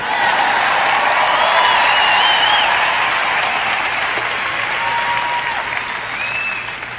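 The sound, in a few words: audience applause at a sermon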